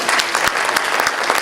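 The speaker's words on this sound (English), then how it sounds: "A little nice applause for Bill." A live audience at a magic and mentalism show applauds a volunteer picked from the crowd, a dense, steady wash of many hands clapping at close range with a few louder individual claps standing out.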